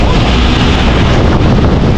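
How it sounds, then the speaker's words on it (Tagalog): Strong wind buffeting an outdoor microphone, a loud continuous roaring rumble that fills the whole clip without letup. "Lakas ng hangin, oh."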